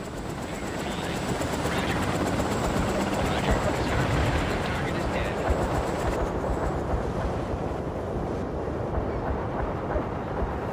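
Gunship helicopter in the video game World in Conflict, a steady loud rotor and engine rumble running the whole time under game radio chatter and battle noise.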